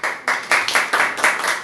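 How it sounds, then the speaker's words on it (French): A small audience claps during a French talk on exam stress, with distinct, evenly spaced bursts of clapping that sound close and fairly loud, with no speech over them. "On peut l'applaudir."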